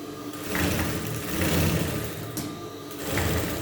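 Sewing machine stitching the folded inner edge of a petticoat, a steady continuous mechanical whir running close and loud throughout with slight rises in speed.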